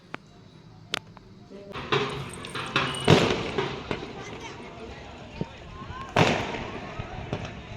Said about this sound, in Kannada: ಈಗ ಹೋಲಿ ಹಬ್ಬ ಐತಂತಂದು ಪಟಾಕಿ ಹಾರ್ಸತ್ತಾರ